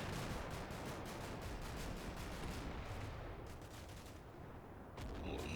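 Dense gunfire in the war video game Combat Mission: Black Sea, with rapid bursts and cracks layered over rumbling distant fire, continuous and loud with a brief lull before it resumes.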